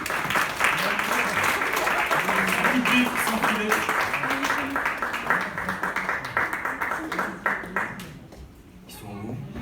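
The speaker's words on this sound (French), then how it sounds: "On peut les applaudir." An audience claps for students returning to the stage at a live show, a full round of applause under a man's speech that thins into scattered claps and fades near the end.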